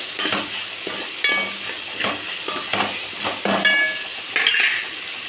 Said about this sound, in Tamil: இதையும் நல்லா கலந்து விட்டுக்கலாம் கொஞ்சம் நேரம் வேகட்டும்